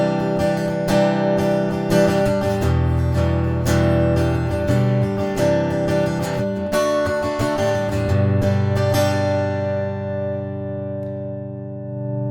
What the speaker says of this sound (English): which is half a piezo pickup and half of the simulated sound, you'll get something that sounds a bit like this.